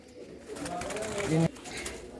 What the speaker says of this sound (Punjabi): ਇਹ ਹੈ ਡੱਬਾ ਕਬੂਤਰ ਬਹੁਤ ਹੀ ਵਧੀਆ